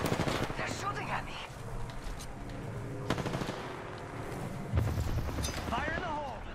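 Rapid bursts of automatic gunfire from a firefight in the battle royale shooter Apex Legends, sustained rattling shots with sharper single cracks, heard under a player's voice.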